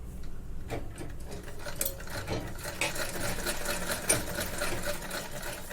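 A domestic sewing machine stitches fabric along a triangular point after a curved seam, giving a continuous mechanical whirr with rapid ticking needle strokes throughout and one brief louder clack near the end.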